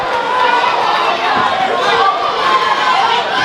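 A packed arena crowd roars and chatters without pause through a toe-to-toe exchange at an SCL MMA fight, a loud dense wash of many voices and cheers.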